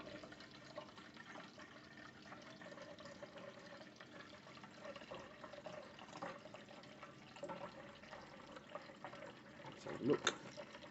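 Pink beer line cleaner runs through beer taps into a container, a soft steady trickle and splash under faint background noise, with a brief louder gush near the end.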